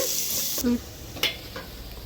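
Spices frying in a pan for paneer pulao, a steady close hiss of sizzling oil with a couple of brief stirring scrapes.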